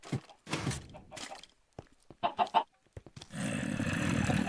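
A Minecraft chicken clucks in short, chirpy game-sound bursts amid clicks and thuds of play, followed by a steady noisy hiss; no one talks.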